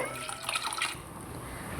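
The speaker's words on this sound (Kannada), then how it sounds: "ಈಗ ನೀರು ಹಾಕ್ಕೊತಾ ಇದ್ದೀನಿ ಅಕ್ಕಿ ಹಾಕಿರ್ತೀವಲ್ಲ ಅಳತೆಗೆ ನೀರು ಹಾಕ್ಕೋಬೇಕು" Water is poured into a pot of rice while making veg biryani, a short, close, steady pouring and gurgling that fades after about a second into a low background hiss.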